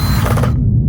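A power driver or ratchet screwing a bull ring tie-down hook screw into a 2022 Hyundai Santa Cruz truck bed, a loud close whirring buzz that stops abruptly after about half a second.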